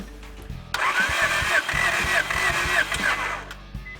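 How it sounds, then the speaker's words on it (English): A 1987 Integra engine cranks without catching, a loud, close, rhythmic whirring churn lasting about three seconds before it cuts off. "We're going to crank it again and watch for a spark."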